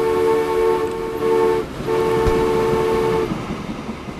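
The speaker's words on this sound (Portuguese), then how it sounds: "Olha o trem chegando aqui." In Transport Fever's Wild West United States campaign, a train pulls into a station. Its loud horn sounds in two long blasts over a steady rumble and rail clatter.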